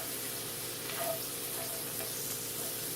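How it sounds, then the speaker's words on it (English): Flour stirred into a hot pan after the liquid has nearly evaporated, for a winter vegetable shepherd's pie: a constant soft sizzle with faint stirring, steady and close. "Put in the flour and stir that in."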